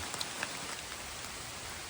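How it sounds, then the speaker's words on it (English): Steady rain falls on the Appalachian Trail, a dense even hiss with a few sharper drip taps near the start. "it's still raining."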